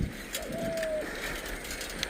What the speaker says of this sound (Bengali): পাখির আওয়াজ শুনুন। ওয়াও, ঘুঘু পাখি উড়ে গেল।